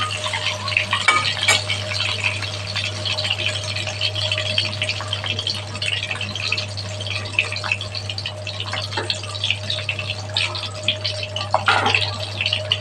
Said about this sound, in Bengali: তো ডিমটা হালকাভাবে ভেজে আপনাদেরকে দেখাচ্ছি